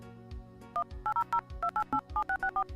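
Telephone keypad tones beep in quick sequence, about a dozen short even dial tones in two bursts, fairly quiet over a soft background hum.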